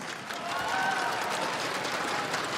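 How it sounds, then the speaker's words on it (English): A crowd at an esports semi-final breaks into broad, steady applause that rises within the first half second and carries on evenly to the end. "everybody give yourselves a round of applause"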